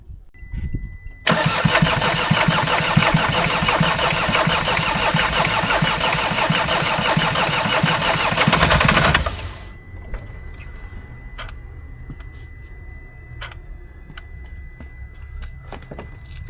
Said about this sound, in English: let's try cranking it yet again